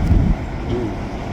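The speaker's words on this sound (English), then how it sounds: "I think that's the end of the CN train now." A CN freight train passing nearby, with old freight cars in the consist, giving a loud low rumble and rolling roar that peaks early and then settles into a steady wind-like rush.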